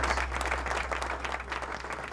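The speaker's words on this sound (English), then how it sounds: "give yourselves a round of applause" An audience at a talk on child support applauds in a steady, dense wash of many hands, fairly soft and distant over a low electrical hum, continuing evenly throughout.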